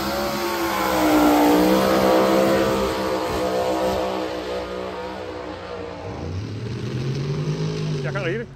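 A 5000 hp Pro Mod drag racing car does a burnout, a loud sustained engine roar with rising and falling revs that dips and then climbs again near the end, while a voice talks over it.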